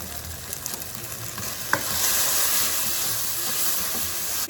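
Salsa cebolla going into a hot pan for smoked herring, a sharp clink at the moment of adding followed by a steady, close sizzle and stirring scrape that continues to the end.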